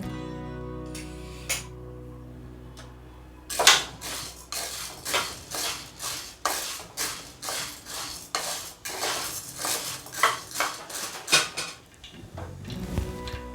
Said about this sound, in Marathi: एक वाटी हरभरा डाळ आहे ही पण आपल्याला साधारण चार ते पाच मिनिटं भाजून घ्यायची आहे